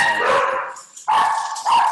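Dogs bark indoors at home during a live online webinar: two loud, close bursts of barking, the first longer, then a short pause before the second round, with no one speaking over them.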